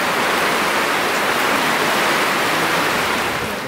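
Heavy rain pours outside in Sweden, heard from a sheltered spot indoors as a loud, dense, steady hiss with no pauses or voices.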